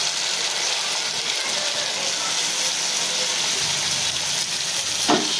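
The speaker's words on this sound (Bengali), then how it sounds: "এবার এই মশলা সহ জলটা দিয়ে দেবো।" Spiced water is poured into a pan of frying fish curry with chopped tomato, setting off a loud, steady sizzle and bubbling hiss that fills the whole stretch, with a brief clatter near the end.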